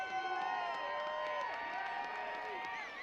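A high school playoff football crowd cheers for a girl attempting a field goal, a distant wash of voices and whoops with scattered clapping that holds steady for about three seconds.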